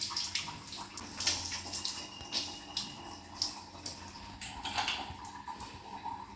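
Water is poured and splashed while a dog gets a bath in a tub, with faint irregular gushes, trickles and drips over a soft background hiss. No voices are heard.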